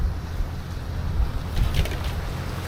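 Steady outdoor wind gusting at a backcountry van camp, a broad low rumble of buffeting that swells and eases in waves without any talk.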